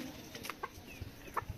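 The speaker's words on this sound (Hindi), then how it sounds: "याडे देखो मुर्गी" Chickens cluck softly in short, scattered bursts at a distance, faint over low background noise with no talking.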